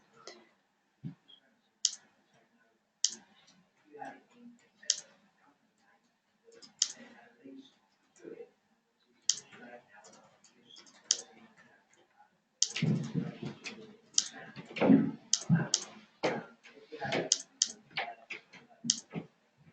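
Sharp mouse clicks while words are typed into word-prediction software, sparse single taps at first and then a denser run of clicks and keystrokes, close and crisp, with someone talking in between.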